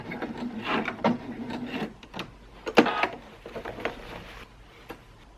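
A sewing machine strains through tight gathers on a 1920s dress, uneven whirring and knocking stitch bursts that stop and start, close by with no talking.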